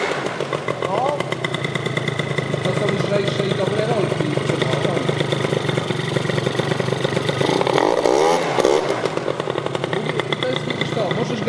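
An Italjet Dragster 180 scooter engine being revved under repair, a close, buzzy two-stroke idle rising into repeated throttle blips, with someone speaking over it.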